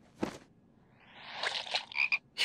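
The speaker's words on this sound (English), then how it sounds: "Frogs" Frogs croaking in a cartoon teaser: a single low croak, then a rising chorus of layered croaks and chirps building to a busy, close burst with no voices.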